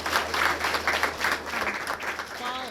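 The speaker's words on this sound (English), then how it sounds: "Can we give our panelists a round of applause before we move to the next?" Audience applause for panelists at an International Women's Day event, steady close clapping from a mid-sized crowd with faint talk beneath.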